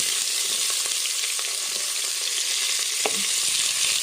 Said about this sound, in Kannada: ನೀರುಳ್ಳಿ ಲಾಯ್ಕ್ ಮಾಡಿ ಫ್ರೈ ಮಾಡ್ತೀಗ